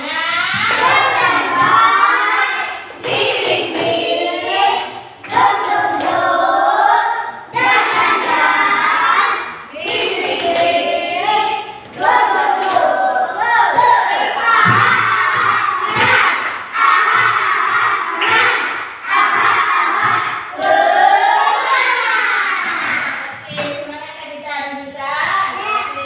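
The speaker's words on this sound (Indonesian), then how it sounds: "Coba semuanya kita lihat. Tepuk semangat." Classroom children doing a rhythmic clapping chant (tepuk semangat), loud shouted voices in unison punctuated by sharp claps and thumps in a steady beat, close and energetic.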